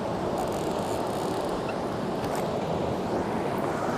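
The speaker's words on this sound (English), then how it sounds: "Right at the top of that rapid." Class 3-5 whitewater rapid on the Gunnison River, a steady, dense rushing roar of water, loud and continuous with no pauses.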